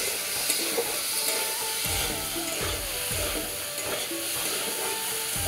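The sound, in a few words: potatoes frying in oil with salt and turmeric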